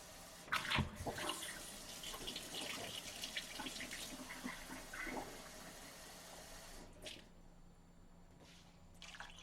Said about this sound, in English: I'm just going to add another cup of water